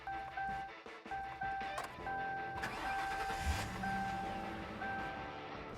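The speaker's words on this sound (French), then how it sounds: "on va la démarrer et on va voir comment c'est de conduire une Crown Vic." A Ford Crown Victoria police car engine cranks and starts up close, turning into a steady idle over a persistent high electronic chime tone.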